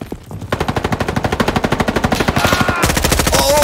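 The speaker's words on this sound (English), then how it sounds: "hear gunshots to the left." Rapid automatic gunfire from a Roblox Frontlines first-person shooter match, a steady burst of dozens of loud shots in quick rhythm for several seconds, alone with no talk over it.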